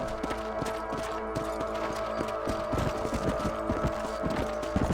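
A horse galloping in Red Dead Redemption, steady rapid hoofbeats clopping under a constant background of game music and ambience, moderately close with no talking.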